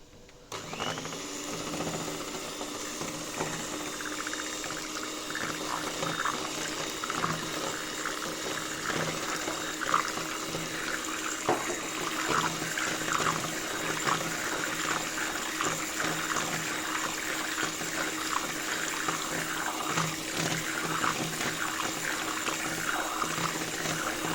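About 200 ml of boiling water is poured into pancake batter, giving a continuous rushing, bubbling pour that holds steady and fairly loud for over twenty seconds.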